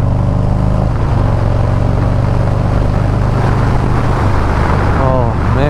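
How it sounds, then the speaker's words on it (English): A motorcycle engine drones low and steady during a ride, building to a short rising surge of acceleration near the end, with a voice audible over the running engine. "I start that bike up and I go for a ride"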